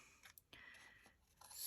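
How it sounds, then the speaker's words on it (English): Small paper snips cutting paper around wooden tree decor shapes, a few faint crisp snipping and rasping strokes, close and quiet, no talk. "using the smaller paper snips is easier to cut around these than big scissors"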